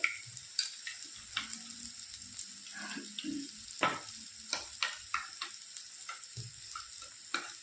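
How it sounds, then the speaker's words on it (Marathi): Bottle gourd dish frying in a pan as curd is stirred in, a soft steady sizzle broken by repeated sharp clicks and scrapes of a spoon. "इथे मी आता त्याच्यामध्ये दही घालत आहे"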